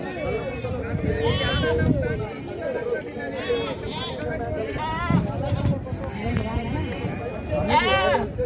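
Goats bleat several times in a noisy goat and sheep market at Devarakadra, close and loud, with people talking around them.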